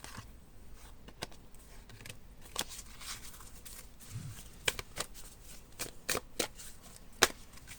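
Metaphorical association cards are shuffled and drawn by hand in a quiet room, giving a series of soft, brief papery flicks and snaps scattered over about eight seconds, close and faint.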